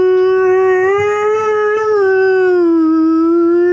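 A weird, eerie wailing from a creature in a fantasy tabletop game, a single loud sustained howl that bends slowly in pitch and carries on alone without talk.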